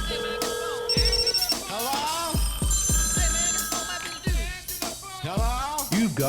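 A telephone rings on a voicemail hotline, a steady electronic ringing tone repeating across the clip while voices talk over it.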